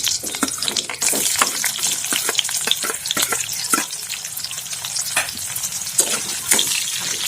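Onions fry in a pan for pork curry, a dense hissing sizzle broken by frequent sharp crackles and pops, loud and close throughout.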